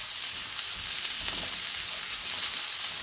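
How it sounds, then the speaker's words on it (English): Carrots stir-fried in a hot pan, a dense continuous sizzle and crackle, close and steady for the whole stretch. "Stir on the carrot for about 30 to 40 seconds."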